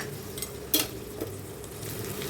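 Mustard seeds, cumin and vadagam crackle in hot oil for a sardine fish curry, a steady close sizzle with one sharp spattering burst and a fainter pop after it.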